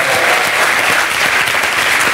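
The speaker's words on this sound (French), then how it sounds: "Applaudissements pour eux." Loud, sustained applause from a crowd, dense clapping filling the space with no pause.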